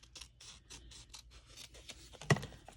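Scissors snip through paper or card during handmade book crafting, a quick series of close, crisp cuts followed by one sharper clack.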